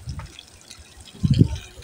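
River water flows and splashes close by, a soft steady rush with a brief louder gush near the end.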